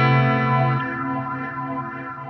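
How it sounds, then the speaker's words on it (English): A guitar played through an Amplitube X-Space reverb pedal on its magnetic algorithm, heard as the reverb signal alone: a lush, sustained wash of layered tones that swells, then slowly thins and fades over a couple of seconds. "I'm on the magnetic algorithm here, and if you had listened to just the reverb on its own, it would sound like this."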